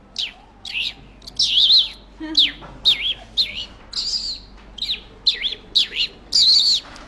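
A voice mimicking sparrow chirping: a quick, irregular string of short, high, bright chirps, close and fairly loud, with no talking in between.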